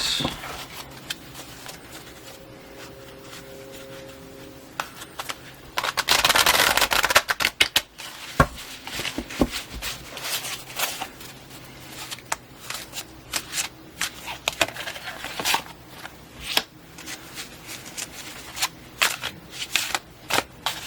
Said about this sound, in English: I've been shuffling these cards very thoroughly between readings